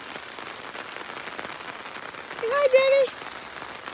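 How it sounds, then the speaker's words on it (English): Steady rain patters on a surface throughout, with a voice briefly heard near the end. "It started raining again"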